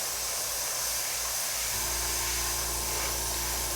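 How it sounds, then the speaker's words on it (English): An airbrush sprays paint over a filigree stencil, giving a steady close hiss that runs throughout with a faint low hum added partway through. "The airbrush will actually push the stencil down."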